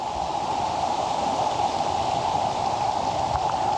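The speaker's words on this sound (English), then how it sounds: "Actually a fairly decent river." A fairly large river in New Zealand rushing beneath a small bridge, a steady broadband roar of flowing water, close and continuous with no voices.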